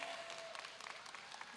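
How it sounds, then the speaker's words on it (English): Crowd clapping at a graduation celebration as a colleague is welcomed to the stage, steady dense applause heard fairly faint and distant throughout. "let's clap for Tony"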